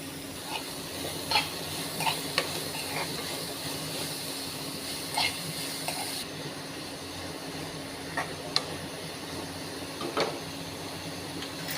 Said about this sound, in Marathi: पत्ताकोबी टाकते, मिक्स करून घ्यायचे